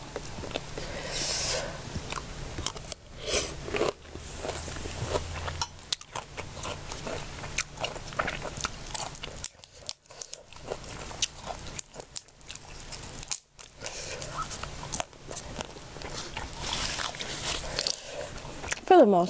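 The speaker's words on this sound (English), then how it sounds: "There's gonna be a lot of crunch sound." Crisp crunching and chewing of Thai spicy long bean salad, with repeated bites and squishy mouth sounds up close, with brief pauses between.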